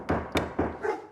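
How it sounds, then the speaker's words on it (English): A dog barks three times in a quick, even rhythm, loud and close, followed by a brief whimpering yelp at the end, with no talking. "Doesn't that dog ever stop barking?"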